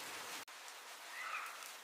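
Heavy rainforest rain pours down in a dense, steady hiss, briefly cut off for an instant before resuming, loud and close with no voices.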